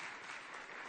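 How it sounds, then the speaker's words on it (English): A short burst of dense clapping from a crowd, steady and fairly faint, heard alone. "you can give them a round of applause"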